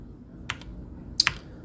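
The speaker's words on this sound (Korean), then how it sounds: "A 버튼 키보드 A를 눌러주시면" Two quick clicks of a computer keyboard key, the A key pressed during 3D sculpting work, land about 0.7 seconds apart: a lighter first tap followed by a sharper, louder double click, close and with no voices present.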